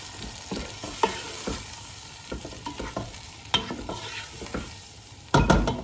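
Chilies, ginger and garlic frying in a pan for a tomato chicken curry crackle under a constant sizzle, broken by irregular spoon scrapes and stirring knocks and a louder clatter near the end, up close without speech.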